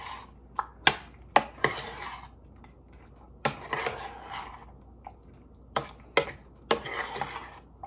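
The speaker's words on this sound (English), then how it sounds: "stir that in good" Ingredients for sweet and sour pineapple kielbasa are stirred in a pot, with a series of sharp spoon scrapes and knocks against the side coming in irregular clusters over a quiet background.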